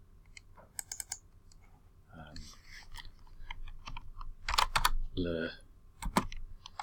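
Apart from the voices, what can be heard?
typing on a computer keyboard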